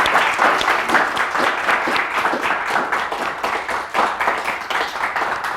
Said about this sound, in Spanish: pues démosle un aplauso a ellos por su trabajo